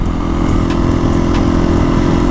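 A Kawasaki ZX-10R sport motorcycle rides on the street, its engine a loud, steady drone close up, with constant low rumble and no talk over it.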